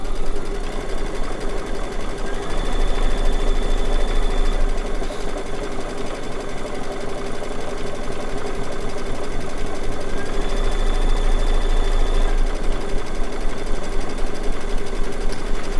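Computerized embroidery machine running steadily, stitching a heavier seam-line stitch around a circular needle-turn appliqué on a quilt block in the hoop; a continuous close hum with fast rhythmic needle chatter throughout.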